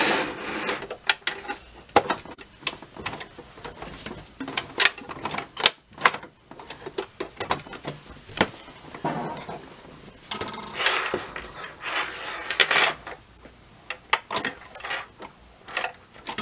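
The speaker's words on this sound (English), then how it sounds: "So I'm going to go ahead and serge this on." A serger sews elastic onto an adult swimsuit, giving a close, rapid mechanical clatter in irregular bursts, starting and stopping with short pauses and no talking.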